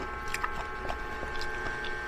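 Crunchy bites of fried chicharon bulaklak, crispy outside and soft within, chewed close up in a few irregular crackly bursts over a steady low background hum.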